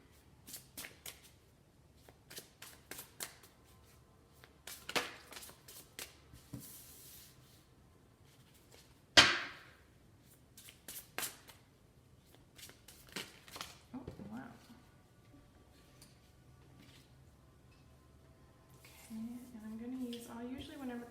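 Tarot cards being shuffled by hand, with crisp riffles and soft slaps that come in bursts, plus a few cards dropping onto a table, all close and moderately loud against a quiet room.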